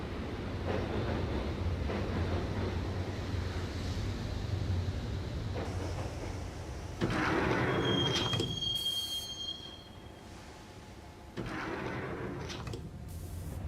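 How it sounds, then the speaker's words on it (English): A subway train in Max Payne rumbles through a tunnel in a steady heavy drone, with a thin metallic wheel squeal and a sliding door partway through before the rumble settles lower. "the train doors had already shut behind me, and I was in for the ride"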